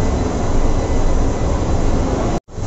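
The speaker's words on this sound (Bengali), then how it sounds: "উঠে পড়লাম কবি সুভাষগামী প্রথম মেট্রোয়ে।" Kolkata Metro train on the Dakshineswar–Noapara line, first commercial run, heard from inside as a loud, steady broadband rumble and roar of the moving carriage, unbroken apart from a momentary dropout near the end.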